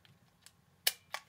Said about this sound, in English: You hold this button forward, so push it toward the back of the camera. And click, click.